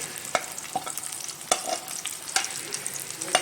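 Garlic frying in a pan with carom and cumin seeds, a soft continuous sizzle broken by regular clicks and scrapes of a spoon against the metal, heard close and alone.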